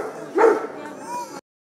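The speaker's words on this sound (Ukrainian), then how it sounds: "Вівчарка на ім'я Атач, хоч пес і цивільний, проте навички оборони має не гірші." A civilian shepherd dog trained in defence at the Zakarpattia police canine centre gives a single short, close bark that trails into a brief whine, against quiet room tone.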